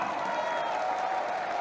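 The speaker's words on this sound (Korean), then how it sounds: "축하의 박수를 부탁드리겠습니다." Audience applause at a Korean political party event celebrating a presidential nomination, a steady dense wash of clapping from a crowd that holds evenly throughout without pause.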